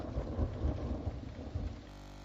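Rain pours steadily with low rumbling thunder underneath, a brief stormy patch that cuts off abruptly.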